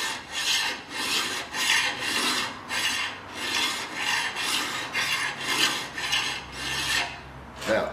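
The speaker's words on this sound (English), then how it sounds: "Now, using a file, you do what's called draw filing. You have the file at 45 degrees there, and just run it along the plate" Steady rhythmic rasping of a hand file being drawn along a metal lathe plate, with about a dozen even strokes in close, repeated succession.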